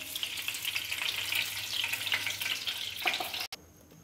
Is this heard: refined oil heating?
yes